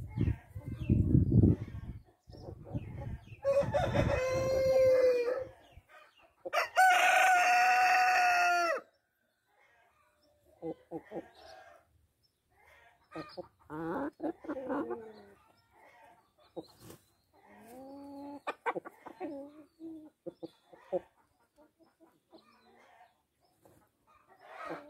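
A flock of Light Brahma chickens: long, loud rooster crows ring out near the start, then scattered clucks and short calls follow with quiet gaps between them.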